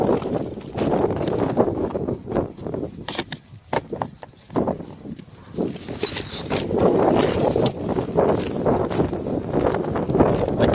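Gusty, swirling wind with rain at an outdoor shooting range buffets the microphone in uneven surges, rising and falling throughout and briefly easing near the middle.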